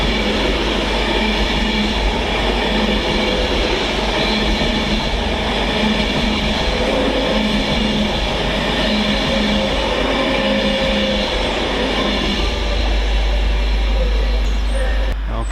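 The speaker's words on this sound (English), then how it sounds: "we have an Avanti West Coast Pendolino, first of all, coming through on the fast line there, 392152." An Avanti West Coast Pendolino electric train speeding through Stafford station on the fast line, a loud, steady roar and rumble of wheels and rails filling the whole stretch, with rhythmic clatter running beneath the continuous rush.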